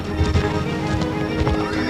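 Hoof clatter mixed with a horse's neighing from a horse sound effect, of a rearing horse, a dense, steady burst with a louder whinny near the end.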